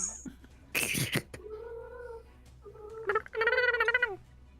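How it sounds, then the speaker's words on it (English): A female cat in heat yowls in long, drawn-out wavering cries, a couple of separate calls with a burst of rustling noise between them, fairly close and loud in a quiet room. "My cat."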